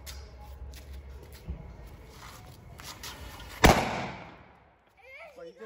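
Large firecrackers go off outdoors during a Gurpurab celebration, one sharp close blast standing out with a crackling decay, amid lighter bangs and rustling, before a brief quiet and faint voices.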